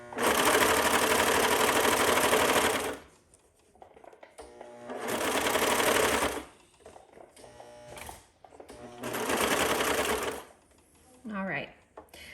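A sewing machine stitches a cami dress in three loud bursts of a few seconds each, with short quiet gaps and handling noises between them.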